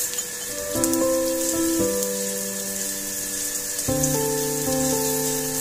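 Chopped garlic, green chili, ginger and onion fry in white oil for veg Manchurian, giving a loud, continuous, close sizzle with crackle. A steady, sustained musical tone plays over the frying, and no one speaks.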